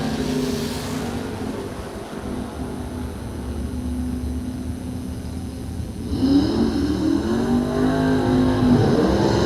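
A 1972 Dodge Challenger and a 1964 Chevy II race at a drag strip, with engines droning at a distance before a louder, rising roar of acceleration takes over.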